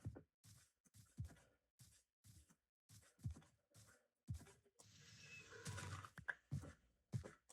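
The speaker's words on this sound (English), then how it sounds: "Can I train the donkey as a horse?" A Minecraft donkey brays in rhythmic, rasping pulses, a repeating series of harsh bursts with a longer wheezing stretch near the end, quiet and close.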